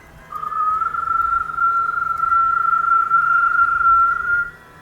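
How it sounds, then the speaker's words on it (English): A single steady whistle from a person, held as one long, unbroken tone for about four seconds, clear and close, with faint room noise underneath and no talk. "as soon as you start whistling"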